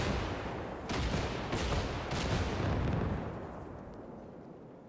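Super tank guns fire continuously in the Gates of Hell video game, a heavy rumbling barrage of booms and blasts, dense and sustained, with a few sharper reports before fading slightly.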